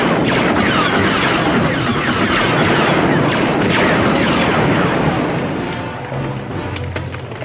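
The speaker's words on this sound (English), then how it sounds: "Set your blasters to full power." Blaster fire in a sci-fi space battle sound effect, a dense, loud, continuous barrage of crackling shots and booms that eases slightly toward the end.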